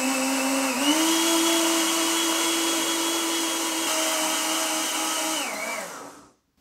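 A kitchen blender whirs steadily while blending melon with milk, loud and close, holding one strong motor whine for about five seconds before spinning down and stopping.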